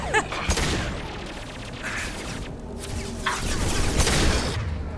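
Enemy gunfire crackles in Mass Effect 2 as a sharp opening burst, then scattered shots and impacts that grow denser and louder toward the end, with no talking.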